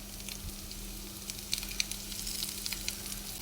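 Drumstick leaves hitting a hot pan with grated coconut while being stir-fried for a jackfruit-seed thoran, a soft, steady sizzle with light crackles, close but fairly quiet and without speech.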